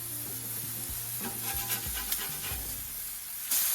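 Smash burger patties sizzle and hiss steadily on a hot griddle just after flipping, a close, even frying crackle with a low hum beneath and no talking.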